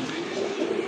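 Pair of domestic pigeons, male fancy birds including a black-laced one, cooing continuously in a low, steady murmur close by through the whole second.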